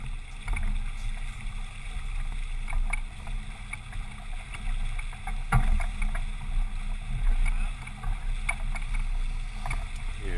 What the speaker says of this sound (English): Sailing a Y flyer.